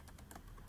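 Brief burst of quick keystrokes on a computer keyboard while entering a passphrase, faint and close, with no talk.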